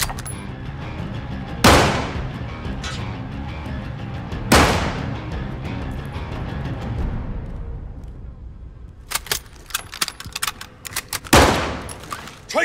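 Call of Duty: Modern Warfare combat with heavy gunfire: two big booming blasts ring out and decay, then dense bursts of rapid automatic fire and another loud blast, all loud and close.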